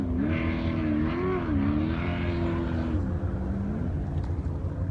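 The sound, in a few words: off-road race vehicle engine running after being refired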